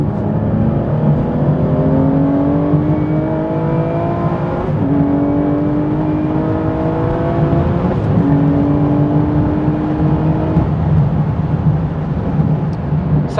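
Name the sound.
car accelerating at full throttle, 7-speed manual downshifting 5-2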